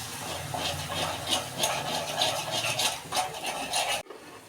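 Red chili chutney roasts in a pan: a dense, steady hiss of dry sizzling with faint stirring scrapes, cutting off abruptly near the end.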